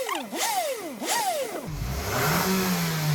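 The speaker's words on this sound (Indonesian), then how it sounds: "Lalu setelah itu dilakukan kickdown sebanyak 10 kali." A 2009 Toyota Camry engine is given kickdown revs, two quick sharp blips followed by a longer loud sustained rev, heard close up with no speech.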